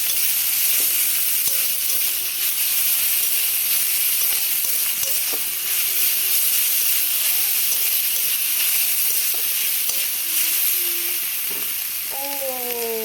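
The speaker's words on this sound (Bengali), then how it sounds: "এই যে পুরোটা দিয়ে দিলাম এটাকে একটু ভালো করে কষিয়ে নেব" Ginger garlic paste sizzling in hot oil with mushrooms in a pan, a loud steady frying hiss with faint stirring scrapes and small clinks throughout.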